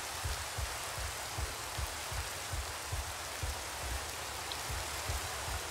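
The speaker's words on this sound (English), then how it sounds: "And look, more rain." Steady rain falls in a survival video game, a soft, even hiss with faint patters repeating underneath, fairly quiet and with no voices.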